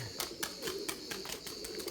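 White Erzurum pigeons in a loft give soft, repeated coos with a brisk rhythm of fluttering and scuffling, heard close and moderately loud with no talk.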